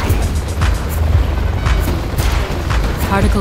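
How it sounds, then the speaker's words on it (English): Deep rumbling booms and bursts of weapon fire pound repeatedly over a heavy low roar as a particle cannon superweapon fires in Command & Conquer: Generals Zero Hour, like a chaotic sci-fi battle. "Particle cannon activated."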